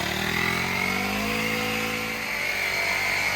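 An Auxito smart pump inflating a car tire with the wheel raised off the ground, its motor giving a loud, steady, unbroken buzzing drone close up with no speech.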